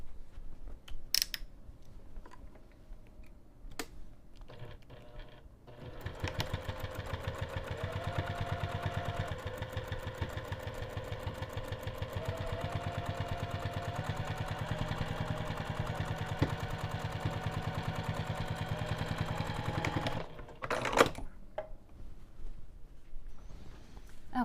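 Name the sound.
sewing machine stitching bag flap sides and bottom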